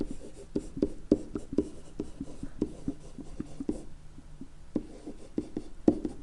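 A pen or marker taps and scratches in short, irregular strokes while an equation is written, close and fairly quiet, with a brief lull midway before the strokes resume.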